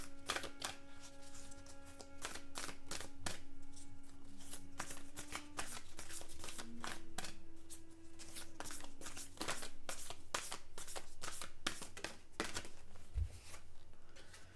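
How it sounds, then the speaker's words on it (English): A deck of Zen cards is shuffled by hand, a long run of crisp riffling and rapid card flicks at close range, with a faint steady hum underneath. "let's go ahead and draw some Zen cards"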